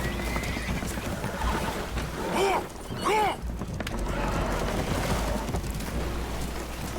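Spooked horses in Red Dead Redemption II whinny twice in quick succession amid a constant rumbling, noisy background, the neighs loud and close.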